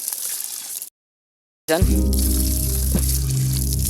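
Tap water gushes steadily from an outdoor faucet as boys wash rubber shoes beneath it, a loud continuous splashing rush that starts abruptly after a short silence and runs without a break.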